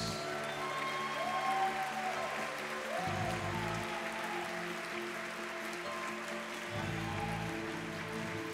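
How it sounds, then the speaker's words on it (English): Steady applause from an audience, continuous and moderately loud, with a low hum and faint tonal sounds running underneath. "Let's give these inspiring mentors of the year a round of applause."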